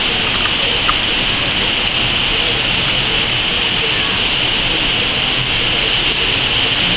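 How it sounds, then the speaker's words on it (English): Heavy rain pours down steadily in Puerto Vallarta, a dense, constant wash of falling water close by, with no pauses and no other sounds breaking through. "it's raining about 5 or 10 minutes now."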